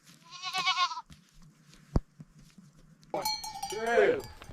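Goats bleat on a farm, two loud wavering cries separated by a sharp knock and a quieter stretch of background noise.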